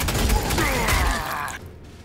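Gunfire rings out in the Warhammer 40,000 Sanctus Reach video game, a dense burst of shots and battle noise lasting over a second before cutting off into near silence.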